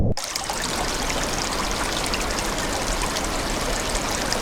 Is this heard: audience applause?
no